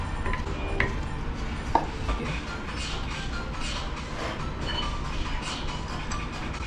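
Bread dough and flour being stirred in a bowl, a continuous close scraping and shuffling with soft knocks, steady and moderately loud with no speech.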